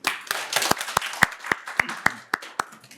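An audience at a panel discussion forum on the display industry applauds a speaker, a sparse room of hands clapping in sharp distinct claps at a fairly close range.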